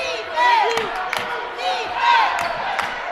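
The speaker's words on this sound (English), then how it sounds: "they got a huge crowd on hand" Crowd noise swells and roars at a high school basketball game between Heritage Christian and Brebeuf, with whoops and cheers peaking in two loud waves over a busy gym din, shouting voices scattered throughout.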